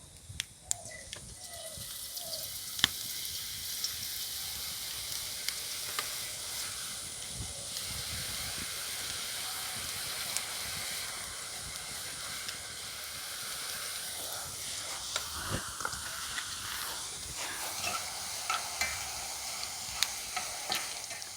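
Boondi batter drops fry in plenty of hot oil, giving a continuous, moderately quiet sizzle and hiss with occasional faint clinks of a spoon or ladle and no talk.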